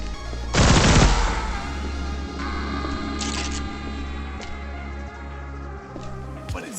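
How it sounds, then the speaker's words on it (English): Plasma rifle in the shooter ADACA, a loud burst of rapid fully automatic fire near the start, then a long steady hum with faint clicks and tones, no voices. "Plasma rifle shoots as you would expect, fully automatic until it overheats."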